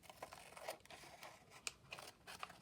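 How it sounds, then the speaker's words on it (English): Scissors trim away excess paper on a folded craft pocket, giving a few close, crisp snips and light paper rustles, faint and alone without speech. "we just got to trim away the extra"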